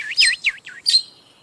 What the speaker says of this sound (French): l'oiseau réveille Monsieur Marcelin de son chant